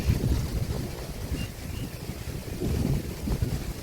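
Strong wind gusts buffet the microphone outdoors in a dry-season field, a rough, uneven rush that swells and eases.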